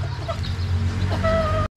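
A brood hen kept for two-way gamefowl breeding clucks close by in short throaty bursts, with a low steady rumble underneath and the sound cutting off abruptly at the end.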